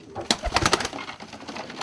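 Swallow pigeons, a mated pair, cooing up close in a loft, a burst of several soft coos in the first second followed by quieter cooing and rustle.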